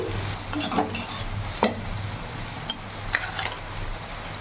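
A spatula stirs spices and Kashmiri chili powder in a pan for a chhana and potato curry, with scraping strokes and a few metallic clinks over a low sizzle.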